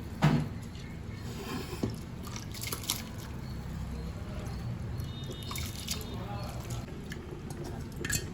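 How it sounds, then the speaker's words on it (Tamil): Water boils hard in a cooking pot before rice is added, a steady bubbling and hissing wash with occasional louder pops and drips, heard close up. "இதில் தண்ணி வந்து ரொம்ப கொதிக்குது"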